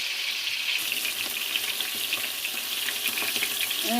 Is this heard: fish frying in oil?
yes